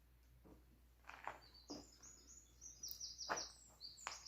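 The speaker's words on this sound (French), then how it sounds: "Un petit chant d'oiseau." A small bird sings inside an abandoned farm shed, its faint, high chirps and short trilling phrases coming from some distance over a quiet, hollow room.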